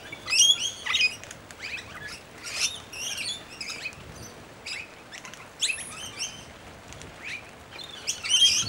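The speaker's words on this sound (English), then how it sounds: "these birds are very excited. They're excited by the rain and excited by the food" Excited birds at a bird sanctuary on a rainy day, with bursts of sharp, high chirps and squeaky calls coming in irregular clusters over a soft, steady patter of rain.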